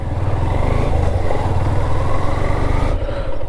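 A motorcycle engine drones steadily up close while riding over the Jurala dam, a low rumbling hum that runs continuously and loudly, shifting slightly in tone near the end.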